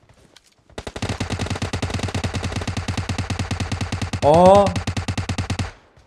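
Sustained automatic gunfire in the mobile battle-royale game PUBG Mobile, a rapid and steady burst of shots lasting several seconds, loud and close, with a brief voiced exclamation partway through.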